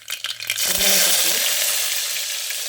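Garlic frying in a pan for a drumstick gojju, giving a steady, close sizzle that swells after an opening stir and holds bright and even to the end.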